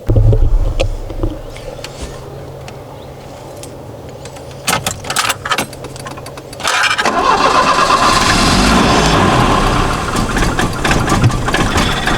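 A car engine fitted with K-Jetronic fuel injection cranks and tries to start, with jangling keys and short bursts of cranking, then a louder sustained rough running or cranking noise in the second half.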